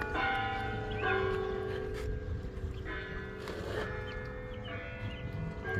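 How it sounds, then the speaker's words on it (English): Church bells ring from a bell tower, clear repeated tolls sounding at moderate distance over a steady outdoor background. "The bell tower."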